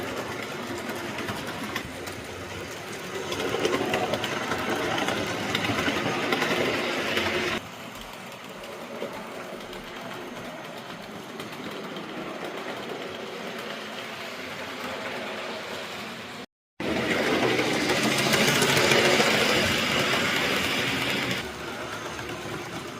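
Hornby model locomotive Albert Hall pulls Blood and Custard coaches around a layout, making a continuous whirring rumble that swells and eases, with a brief cut-out near the end.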